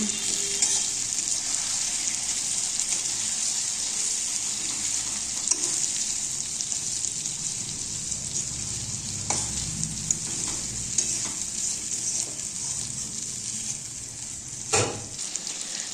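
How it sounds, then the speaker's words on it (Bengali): Katla fish frying with sugar in a pan, stirred with a steady bright sizzle throughout and occasional scraping taps of the spoon, with no talking. "দিয়ে দিচ্ছি চিনি এবার একটু নাড়াচাড়া করে নিচ্ছি"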